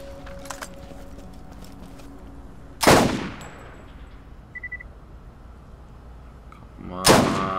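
Two loud, sharp sniper rifle shots from the Borderlands video game ring out about four seconds apart, each with a brief ringing tail. Quieter scattered game sounds fill the gap between them.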